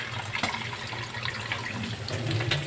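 Tap water from the municipal supply runs steadily into a container for cooking a soup, a close, continuous splashing stream with small irregular splashes and no talk.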